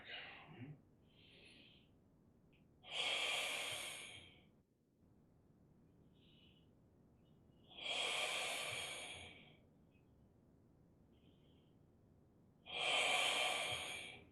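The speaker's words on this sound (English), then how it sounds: "Can you hear my breathing? Breathe in, breathe out." Slow, deep breaths in and out, three long airy rises with quiet pauses between, close to the microphone.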